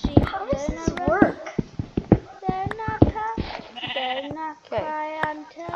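Blocky sheep in Eaglercraft, a Minecraft-style game, bleat over and over in short wavering calls, several overlapping at close range, with footsteps and game clicks between them.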